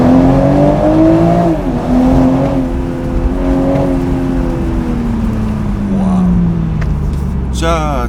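A BMW Z4 M40i sports car in Sport mode with the roof open, its engine droning loud and close with rising and falling pitch as it accelerates and shifts, a sharper burst near the end.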